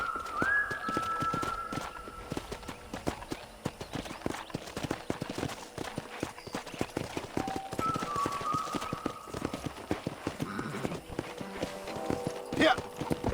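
Horse hooves clip-clopping in the video game Red Dead Redemption, a steady rhythmic trot on a ranch road, moderately close, with characters talking over it and faint ambient birds.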